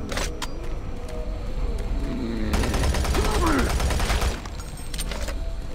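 Shotgun blasts in Doom 3 BFG, fired in the Alpha Labs Sector 1 level, arrive as a loud, dense stretch of booming fire over game ambience, then give way to quieter background sound.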